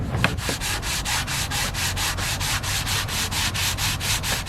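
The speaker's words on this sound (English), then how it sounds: "I'm going to be working on those with some sandpaper and a plane." Steady rhythmic hand sanding of timber pads with sandpaper, a brisk back-and-forth rasp repeating evenly about four times a second, close and alone.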